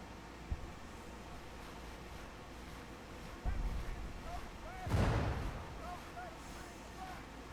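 Troops firing in Grand Tactician: The Civil War, with several booming volleys at irregular intervals over a steady wind-like rumble; the loudest burst comes late and is followed by a lingering roar.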